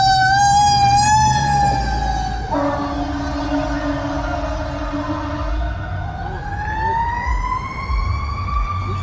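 A fire truck siren at an outdoor muscle car show, wailing loudly close by as it passes, its pitch dropping and then rising again, with a deep horn-like blast partway through.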